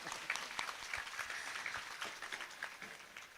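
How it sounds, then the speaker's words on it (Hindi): Audience applause at a Shrimad Bhagwat Katha gathering in Champa, India: steady, moderately distant clapping from a crowd, continuous for a few seconds with no talk over it. "हाँ, ताली बजाइए।"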